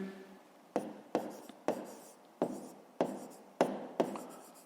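A pen scratching on paper while math homework is written out, close and quiet, in about eight short strokes, each starting with a tap and trailing off.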